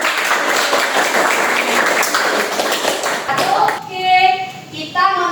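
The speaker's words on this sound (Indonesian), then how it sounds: "Tepuk tangan untuk kita semua." A high school history class claps hands together on cue, a dense burst of many small hands that fades after a few seconds into children's voices and a short sung tone.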